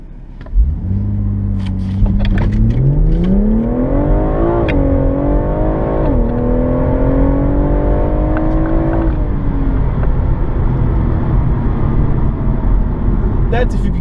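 BMW M140i, the rear-wheel-drive 2016 hatchback, accelerating hard: a loud, close engine note climbs steadily through the gears with a few brief dips at shifts, rising and then holding a strong drone to the end.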